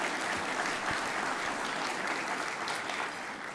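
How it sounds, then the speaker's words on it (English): Dense, steady applause from a crowd at a State of the City 2022 address fills the whole stretch, sounding like a large room of people clapping together. "So let's give our elected officials another round of applause."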